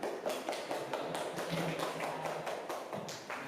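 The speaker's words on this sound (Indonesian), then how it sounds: "mari kita beri aplaus untuk kelompok 1" A group claps together in a quick, fairly even rhythm after a classroom presentation, soft and somewhat distant, with no talking over it.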